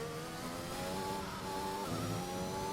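A Formula 1 race car in the F1 2021 video game, Italy round, driven flat out on the formation lap to warm the tyres: a loud, steady high-revving engine drone with a gear change near the end, heard alone.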